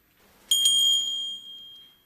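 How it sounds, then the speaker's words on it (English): A single bright bell strike opens a food festival, ringing clearly with a sharp attack and a long sustained metallic tone that slowly fades over about a second and a half. "the bell is ringing for the food festival to begin"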